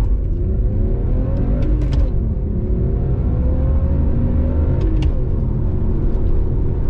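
A BMW 325ti accelerates hard, its mid-pitched engine climbing steadily in a loud, continuous run with a brief shift-like dip, heard close and alone without talk.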